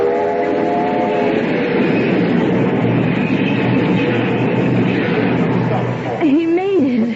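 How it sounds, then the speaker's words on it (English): Radio-drama sound effect of a running train: a steady, loud rolling rumble throughout, with a whistle-like tone at the start and a voice rising over the noise near the end. "Caleb, stop the train"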